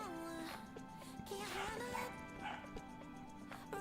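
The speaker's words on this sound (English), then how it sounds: "You hear the dog?" A dog barks indoors, a few sharp yips and whimpering barks at moderate distance. A steady tonal hum plays behind it.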